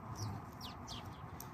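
Birds sing in the morning, with short high chirps and tweets repeating over a steady low background rumble and no voices.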